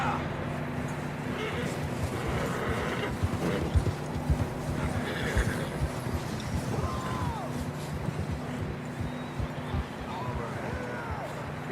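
Horses in the snowy winter setting of Red Dead Redemption 2 clip-clop steadily along with occasional whinnies, under wind noise and a low ambient drone, with voices briefly heard over the hooves.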